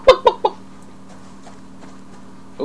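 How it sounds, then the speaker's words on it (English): A chicken in a survival video game clucks three quick, loud clucks at the start, then fades to a quiet ambient hum with a faint cluck at the end; no talking. "There's a chicken."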